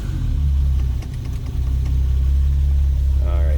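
A 1973 Triumph GT6 Mk III's inline six-cylinder 2-liter engine idles steadily up close with the choke pulled slightly, a deep even rumble with a brief dip partway through, joined by a faint higher-pitched whine near the end.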